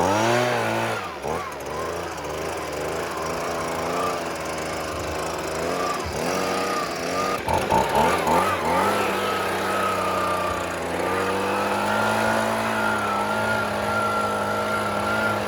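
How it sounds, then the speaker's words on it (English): A Husqvarna leaf blower roars steadily close by as it blasts debris out of a pickup truck bed, its engine pitch wavering as the nozzle sweeps around, with brief surges midway. "I'm going to fire up the Husqvarna leaf blower and blow all of that debris out of there"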